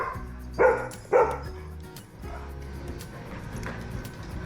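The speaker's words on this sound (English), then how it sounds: "Oh no, you're still barking." A dog gives two loud, sharp barks close by about half a second apart, followed by quieter room noise with faint movement and a low background hum.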